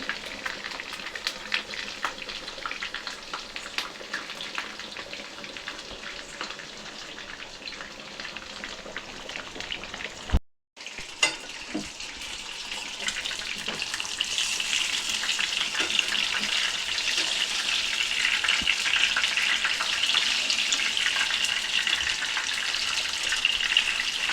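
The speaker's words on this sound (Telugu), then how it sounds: "చూసారు కదండి ఎలా వేగినాయో చాలా క్రిస్పీగా ఉంటాయండి" Curry leaves sizzling and crackling in hot oil in a pan, a loud, steady close frying hiss that pauses briefly and then returns more intensely, with fine spitting pops throughout.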